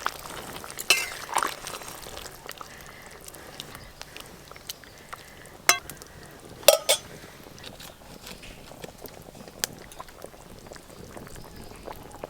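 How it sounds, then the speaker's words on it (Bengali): Fried fish goes into a pot of boiling curry, with a soft continuous bubbling broken by a few sharp clinks and splashy knocks, fairly quiet and close, with no talking. "হ্যাঁ, ঝোল খুব ভালো করে ফুটে গেছে, ভেজে রাখা সব মাছ দিয়ে দেব।"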